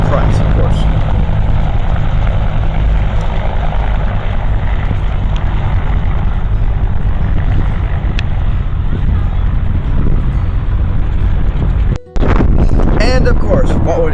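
An Aerocopter rotorcraft flying at an air show: loud, continuous engine and rotor roar with wind buffeting on the microphone, briefly cut off near the end before the din resumes.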